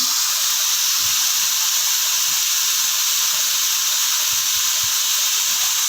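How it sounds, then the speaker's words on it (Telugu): Onions frying in a pan for an okra tamarind stew, giving a steady, loud broadband sizzle and hiss that runs unbroken throughout, with faint low clinks underneath. "ఆనియన్స్ మంచిగా ఫ్రై చేసుకుందాం"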